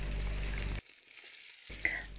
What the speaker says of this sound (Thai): เสร็จแล้วเราก็จะนำลงหม้อทอดเลยค่ะ